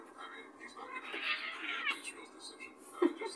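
A cat meows several times, soft drawn-out cries with a sharper one near the end, while people talk quietly nearby.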